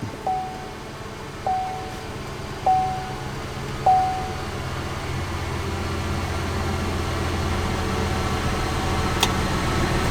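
A Chevy Impala 5.3L, just repaired after an oil pressure sensor fault, settles into a steady low idle after a few short chirps and starter catches, running evenly and close by.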